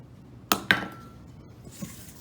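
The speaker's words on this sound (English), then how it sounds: "I'm going to take the beater off, get all of that sugar and egg mixture off." A metal electric mixer beater knocks twice against a bowl holding a sugar and egg cookie mixture, two sharp clinks close together, then a faint scrape in a quiet kitchen.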